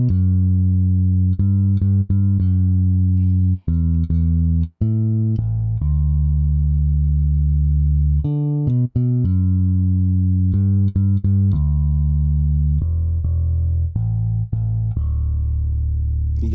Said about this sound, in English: So the bass sounds like this by itself.